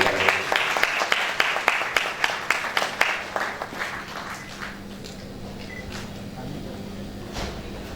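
A crowd at a memorial event applauds with steady, fairly loud clapping that thins out and fades after a few seconds, leaving a quiet murmur of the room.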